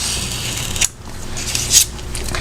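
A craft knife trims the tabs of a Christmas tote bag, giving two brief crisp cutting swipes, close and fairly loud, over a quiet steady room hiss.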